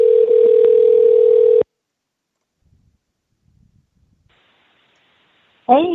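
A phone call rings out unanswered: a steady ringback tone plays near and loud, then stops, leaving near silence with faint rustles before a voice briefly begins.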